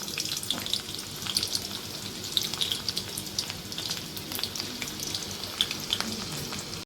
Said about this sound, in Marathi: ह्याच्यामध्ये मी चार पाच लसूण ठेचून बारीक करून त्याला थोडासा तांबूस कलर येऊन देऊया आपण